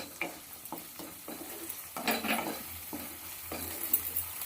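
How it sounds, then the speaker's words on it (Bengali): Tomato and ginger-paste masala is stir-fried in a pan for small-potato aloo kosha: a low sizzle under repeated rhythmic spatula scrapes and knocks, fairly close, with a louder burst of stirring midway. "এবার আবার সব কিছু দিয়ে কষিয়ে নেবো ভালো করে"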